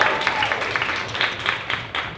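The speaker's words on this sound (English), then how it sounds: "Give a round of applause for that." An audience applauds during a club panel chat, a brief burst of scattered clapping with a few sharper claps standing out near the listener.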